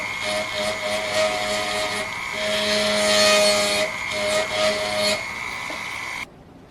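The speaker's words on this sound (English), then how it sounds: "I'm going to take another one of those ball burrs and I'm just going to start removing the metal" A rotary tool with a ball burr grinds into gold, cutting a seat for a dog tooth in a pendant: a steady, close, high whining buzz that swells in the middle and runs about six seconds before stopping abruptly.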